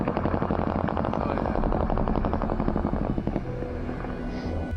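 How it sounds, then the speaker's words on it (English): A UH-1Y Venom (Huey) military helicopter in combat flies with a continuous, loud rotor chop and turbine roar, a steady rhythmic beating that holds throughout. "The Cobra disappears into the darkness as the Huey arrives with a machine gun."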